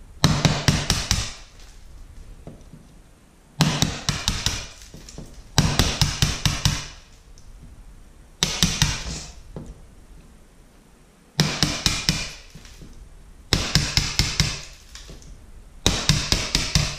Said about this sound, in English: I'll chisel on the outside of my line there.